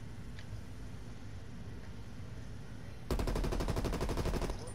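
Video game gunfire: after a few seconds of quiet rumbling background, a loud rapid automatic burst of shots erupts and continues to the end, evenly spaced and close.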